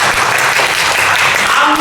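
A church congregation claps during a Sunday worship service, a loud, dense burst of applause that holds steady for a couple of seconds.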